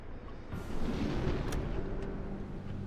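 A torpedo launched from a U-boat in the submarine game UBOAT, a deep muffled rumbling whoosh that swells after a brief start and holds steady, with a couple of faint clicks over it.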